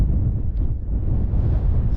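Wind blowing across the summit of Pen y Fan, a steady low rumbling roar buffeting the microphone throughout with no pauses.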